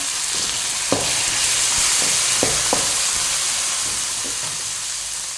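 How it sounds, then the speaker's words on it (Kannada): Raw peas fry in hot oil for shyavige uppittu, making a loud, steady sizzling hiss close by with a few soft clacks from stirring. "ಇದನ್ನು ಬೇಯಿಸಲಿಲ್ಲ ನಾನು ಹಾಗೆ ಹಸಿ ಹಾಕ್ತಿದ್ದೇನೆ ಇದು ಎಣ್ಣೆಲಿ ಫ್ರೈ ಆಗುತ್ತೆ"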